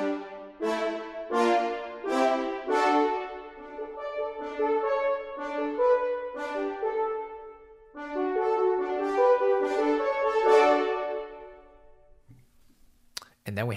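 Orchestral Tools Berlin Series staccatissimo patch plays a run of short, punchy orchestral notes in rhythmic bursts, with each attack decaying quickly and a brief pause midway, ending with faint clicks.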